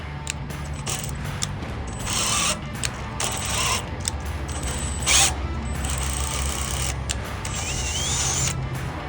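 Metal tap being hand-turned into bolt holes on a steel Jumping Jack trailer step mounting bracket, giving a steady grinding, ratcheting scrape in repeated strokes, close up, with a low hum underneath.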